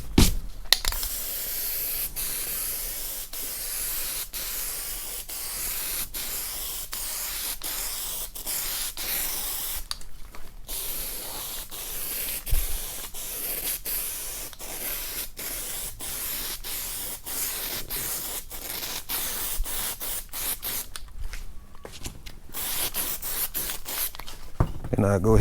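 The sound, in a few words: spraying Loctite spray adhesive onto fabric and foam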